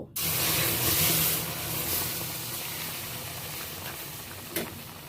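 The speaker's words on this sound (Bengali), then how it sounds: "এবার আমি দুধটা দিয়ে দেব" Milk poured into semolina in a hot pan while making pantua sweets sets off a loud, steady hissing sizzle that starts abruptly and slowly eases, with one brief sharper crackle near the end, close up and no talking.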